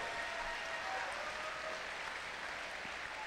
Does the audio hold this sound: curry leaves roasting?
no